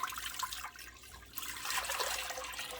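Crab apple juice pouring into a cooking pot: a continuous splashing, trickling liquid stream, fairly quiet and close, lasting a few seconds without talk.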